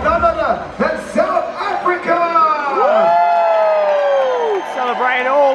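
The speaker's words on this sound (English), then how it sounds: "Give a big round of applause to all the incredible crew members that we have." A crowd on the Carnival Mardi Gras cruise ship cheers and whoops for the crew members, with loud, excited voices and shouts carrying close and sustained, and scattered clapping mixed into the noise.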